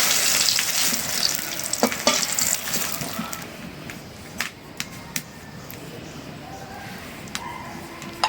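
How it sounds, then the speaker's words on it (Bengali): Half-fried eggplant pieces sizzle in hot oil in a pan, a steady close hiss broken by a few sharp clinks of a spatula or utensil against the pan. "এই যে হয়ে গেল ভাজা ভাজি, মাছ ভাজলাম, বেগুন ভাজলাম।"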